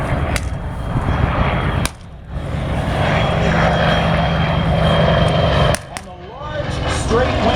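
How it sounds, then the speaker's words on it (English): A propeller plane with a Wright R-3350 radial piston engine drones loudly and steadily, briefly dipping twice as the sound cuts away, with faint voices near the end. "It had the Wright R3350 piston engine, the radial piston engine"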